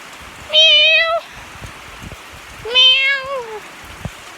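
A cat gives two drawn-out, clear meows a couple of seconds apart, close and loud, outdoors in the rain with soft patter and small drips in the background.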